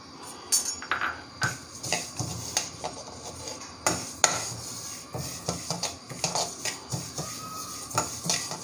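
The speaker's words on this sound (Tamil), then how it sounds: "எள் வறுக்கிறேன்" Sesame seeds dry-roasting in a pan on a stove while being stirred for idli podi, giving a steady run of light scraping and rattling strokes, close and moderately loud, with no talk.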